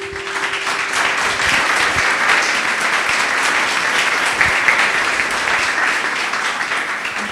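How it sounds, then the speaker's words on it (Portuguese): A church congregation claps hands steadily and loudly, dense continuous applause filling the space for several seconds. "Louve ao Senhor com suas palmas."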